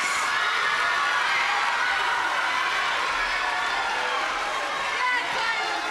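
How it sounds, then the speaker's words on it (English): Audience of parents and classmates clapping and cheering for sixth graders at a school awards ceremony, a steady dense wash of applause with shouts and voices mixed in throughout. "let's clap for these sixth graders"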